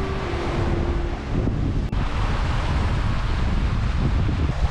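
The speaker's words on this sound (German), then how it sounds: "haben wir jetzt hier schon ständig 20 Knoten Wind" Strong wind of about 20 knots roars at sea aboard a sailing boat crossing the Atlantic after leaving Bermuda, with heavy buffeting on the microphone over rushing water and no voices.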